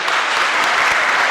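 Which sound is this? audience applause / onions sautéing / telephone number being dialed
audience applause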